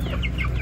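A rooster gives short, loud clucking calls in quick succession, close by, with no talk over them.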